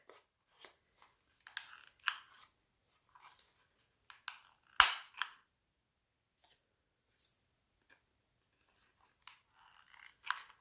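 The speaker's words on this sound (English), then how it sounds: "So let's round the corners. Give it a more finished look." A corner-rounding punch bites through the corners of a paper journaling card, with a few sharp isolated clicks and crunches between light paper handling rustles on a quiet table.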